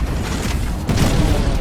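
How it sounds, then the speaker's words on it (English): An enemy Titan blows up in the Titanfall 2 video game, a loud, dense rumbling blast that swells and lingers for under two seconds, close and heavy. "Enemy Titan down."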